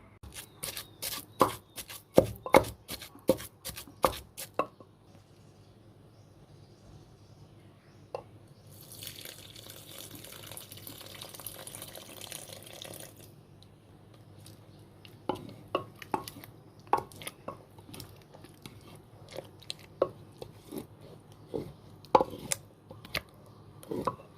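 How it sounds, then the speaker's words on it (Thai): A knife chops shrimp on a board for Thai shrimp chili paste in quick, rapid taps, then a stretch of running water, followed by slower, scattered chops and clicks nearby. "ที่เหลือเดี๋ยวเขาจะหั่นเป็นต้นๆน้อยๆคลุกเข้ากันไปนะจ้ะ"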